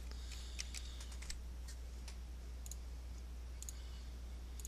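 Keys clack on a computer keyboard in short bursts and single taps, faint and close, over a low steady electrical hum, with no speech.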